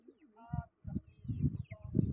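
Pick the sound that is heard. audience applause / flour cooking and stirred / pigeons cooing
pigeons cooing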